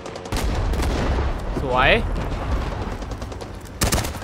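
Rapid bursts of automatic gunfire from a Vietnam War shooting video game, sharp cracks repeating under excited talking from a player, with a louder burst near the end.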